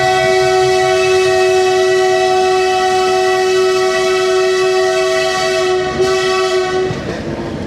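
A long, loud, steady horn blast from a train hauled by a WDG 4G goods locomotive with a banker engine, climbing the Shiradi Ghat, holds for about seven seconds before cutting off into rumbling rail noise.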